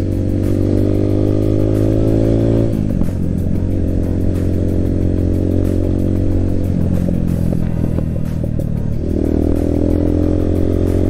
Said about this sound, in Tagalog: itong pipe ni Tito guys, napakalkal niya kahapon